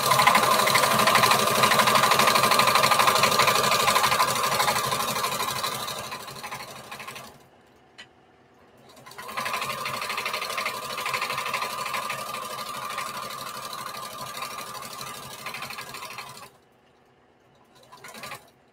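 A sewing machine stitches the pocket of a patchwork bandana T-shirt dress, running in two long, steady, close bursts with a short stop between them to pivot the fabric and a final stop near the end.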